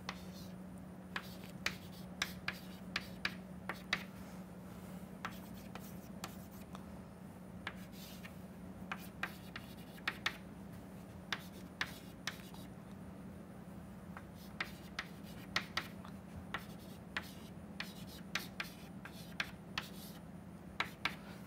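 Handwriting of an equation, likely chalk or marker on a board, with many short sharp taps and scratchy strokes in an irregular rhythm over a steady low hum, close and moderately loud, with no voices.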